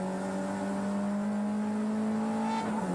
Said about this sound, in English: Needs every bit of power he can squirt out of the Nissan to third.